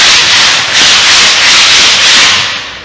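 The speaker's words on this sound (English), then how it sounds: "the sanding process isn't a long thing" Loud, steady abrasive rasping of sandpaper rubbed back and forth over a GRP roof surface in a regular rhythm, close up.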